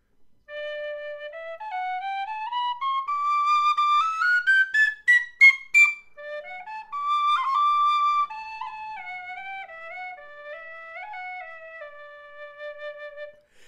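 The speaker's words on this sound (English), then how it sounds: "They call it the Lear penny whistle." A Lear penny whistle plays a clear solo melody of rising and falling runs with a few quick tongued notes, close and bright with no talking.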